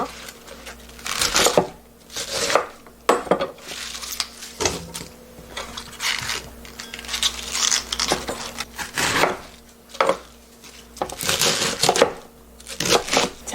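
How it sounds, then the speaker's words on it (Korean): Knife chopping half a cabbage into bite-size pieces on a cutting board for cabbage-cucumber kimchi, a series of crisp crunching cuts and board thuds in irregular bursts, close and clear. "한입 크기로 잘라줄게요"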